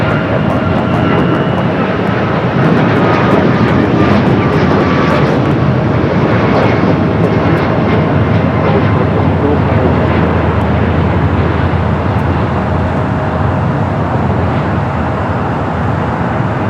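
An airliner takes off from runway 25 right at Los Angeles International Airport with a loud, sustained jet engine roar that builds and holds steadily, heard from outside at a moderate distance.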